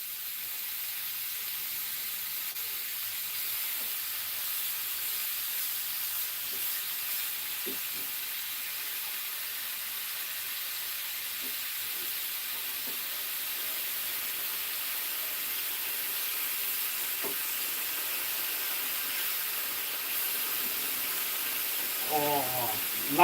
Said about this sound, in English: Oh, we love the sizzle.